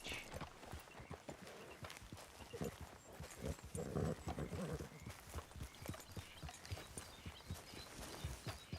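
Steady clip-clop of horse hooves trotting along in Red Dead Redemption 2, a continuous rhythmic beat with a faint snort or two amid outdoor ambience.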